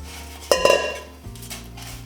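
Croutons are tipped out of a bowl onto a parchment-lined baking sheet, giving a brief clatter of small hard pieces and a light metallic knock, followed by a faint rustle.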